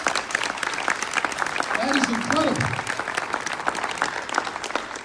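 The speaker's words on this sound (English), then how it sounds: "Please clap for that." Audience clapping at an MLK Unity Day keynote, a steady wave of applause from a large crowd with a speaker's voice briefly heard over it.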